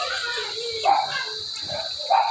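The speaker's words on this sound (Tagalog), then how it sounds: "Napakaingay yung alaga kong dalawang aso." Two pet dogs bark a few short, separate times at a distance over a steady background of insect chirping, with long pauses between barks.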